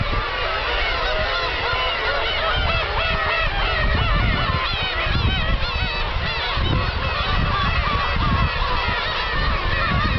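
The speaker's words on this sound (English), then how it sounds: "Here's the star of the show, black-tailed seagull." Dense, loud chorus of black-tailed gulls calling nonstop across a crowded seabird rookery at Kabushima, countless overlapping squawks and honking cries near and far with no pauses.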